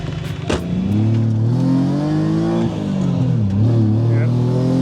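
A BMW E46 Touring with a swapped M54B30 straight-six pulls through the gears while driving, its engine note climbing and easing in smooth revving sweeps, close and loud inside the car.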